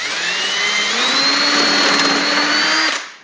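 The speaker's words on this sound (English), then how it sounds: "now we're gonna actually drill kind of a pilot, and this will actually give us what's called a countersink" A power drill bores a countersunk pilot hole into wood, its motor whining loud and steady for about three seconds before spinning down.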